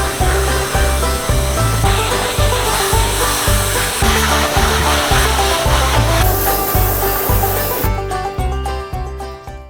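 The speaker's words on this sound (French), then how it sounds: "Ça nettoie absolument rien, c'est terrible, ce Karcher il a zéro puissance." A Karcher pressure washer sprays down a KTM 250 EXC enduro engine, producing a loud, continuous hissing spray over a rhythmic pulsing pump throb, close up, with the tone changing near the end.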